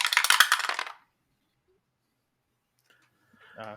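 Obsidian dice clatter in a rattling burst, followed by a long silence and then a brief, sharper clack near the end.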